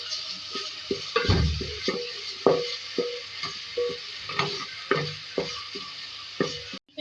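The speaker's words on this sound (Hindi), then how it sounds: "लहसुन का पेस्ट ऐड करेंगे 2 खाने के चमचे, इसको फ्राई करेंगे।" Two tablespoons of garlic paste frying in a pan: a soft steady sizzle with regular close clinks and scrapes of a spoon, and one louder splattering burst near the start.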